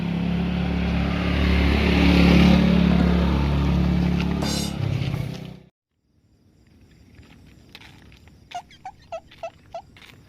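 Motorcycle engine revving hard and close as the rider accelerates, a loud sustained roar that cuts off abruptly, followed by quieter background with a few short sharp pulses.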